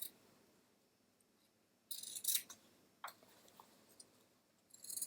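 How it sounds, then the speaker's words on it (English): Scissors snip through a fabric seam while trimming a scrubs neckline: a few crisp cutting bursts with quiet gaps between them, close by and moderately loud. "So I'm going to continue trimming off my seam."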